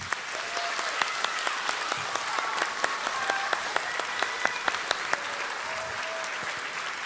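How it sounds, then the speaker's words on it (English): An audience claps at an elementary school end-of-year assembly, a sustained even round of applause with scattered sharper claps standing out near the front, lasting several seconds. "So if we could please give them a round of applause."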